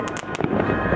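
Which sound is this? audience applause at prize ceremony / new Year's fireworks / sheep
new Year's fireworks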